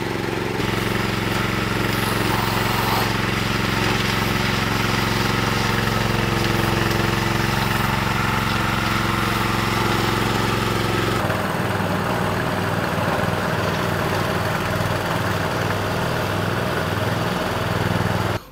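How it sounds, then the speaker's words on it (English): Gas-powered concrete power trowel fitted with a finishing pan working a carport slab, a loud, steady engine drone with grinding rumble that continues for the whole stretch and shifts in tone partway through. "now we put that trowel machine on the carport with a pan"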